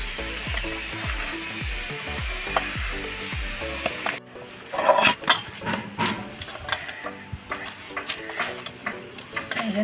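Vegetables with curry leaves and turmeric powder are mixed by hand for veg pakora, with close, steady squishing and rustling that breaks into scattered soft clicks and crunches partway through.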